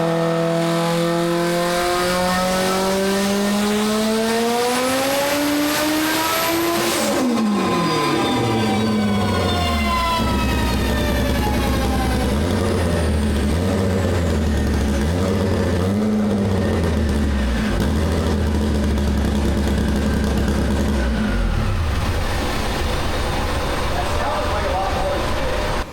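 Engine of an AWD Honda Civic on a dyno, loudly revving up through a rising pull, then dropping to a lumpy, pulsing idle; loud and close throughout, with a brief high whine near the top of the run.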